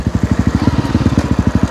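Honda CRF250L dirt bike with road tires running at speed, its single-cylinder engine thumping in a steady, fast pulsing rhythm close by and loud, with no talking over it.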